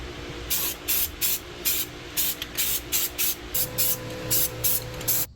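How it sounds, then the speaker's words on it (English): Short bursts of a spray gun hiss in a steady rhythm as paint goes onto a boat hydraulic helm pump, about a dozen quick sprays with a low machine hum between them. "let's go ahead with spraying this a second time"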